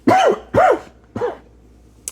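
Three short, harsh coughs in quick succession, the last one weaker, close to the microphone with no talking.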